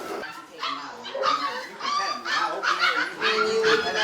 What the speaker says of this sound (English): But there are some quite different pit bulls here on the farm